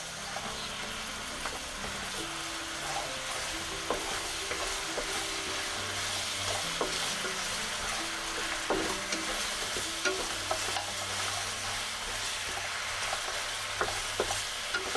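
Sweet and sour pork ribs sauce stirred in a hot pan over high heat, a close, steady sizzle and bubbling with repeated scraping strokes of a utensil on the pan, with no voices.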